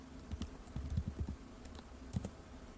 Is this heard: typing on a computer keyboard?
yes